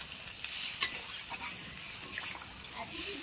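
Meat being stirred with a splash of water in a pot while cooking biryani, giving a steady wet scraping and bubbling sizzle with a few sharper clinks, close and moderately loud, no talking.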